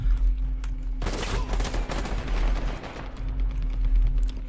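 Rapid gunfire from a FAMAS-like pistol in the video game Dirty Bomb: after a second of low hum, a dense, sustained run of sharp shots rattles on loud and close for several seconds.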